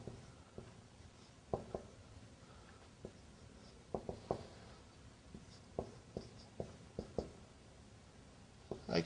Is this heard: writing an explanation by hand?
yes